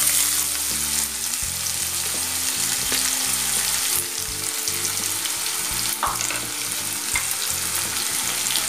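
Two sliced large onions frying in hot oil for a Tamil oil brinjal gravy, a loud, steady sizzle with occasional stirring scrapes, no voices.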